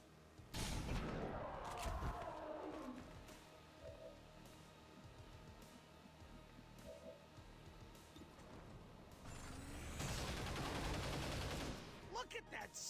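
Rapid bursts of gunfire in XCOM Long War of the Chosen, loud, dense volleys at the start and again near the end, with quieter game ambience and faint talk in between.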